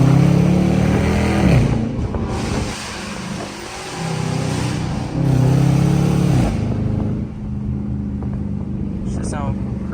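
Dodge Charger R/T accelerating through the gears on a valley road, rising engine sweeps repeating with sharp exhaust pops, loud and close, with people talking over it.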